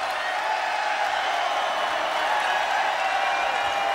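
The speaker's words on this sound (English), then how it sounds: "we're going to just sit here for a minute and listen to the Lobo crowd" Lobo home crowd at a women's basketball game cheering and applauding, a broad steady roar of many voices and clapping filling an arena, sustained and fairly loud throughout.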